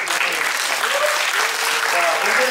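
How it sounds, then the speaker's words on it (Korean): Audience applause at a high school special lecture, steady dense clapping throughout with voices faintly mixed in. "다시 뜨거운 박수로 권대현 박사님을"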